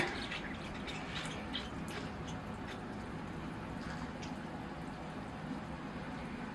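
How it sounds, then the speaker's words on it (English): Water poured over dry soil in a larch bonsai forest planting, giving a steady, soft trickle and patter of dripping liquid that runs continuously and fairly close, with no talking. "I'm just going to water that tree in."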